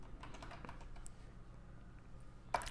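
Keys tap on a computer keyboard while an email address is typed, a quiet, irregular run of close clicks with a sharper final keystroke.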